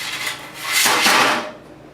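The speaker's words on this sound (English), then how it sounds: "We'll start off this morning sharpening scrapers." Steady rasping scrape of a woodworking scraper being sharpened, one drawn-out stroke that rises and fades, close and alone.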